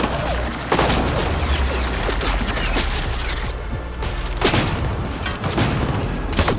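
Rapid turret gunfire in the video game Mass Effect Andromeda rattles on almost without pause, dense and loud, with heavier booming impacts landing throughout the burst.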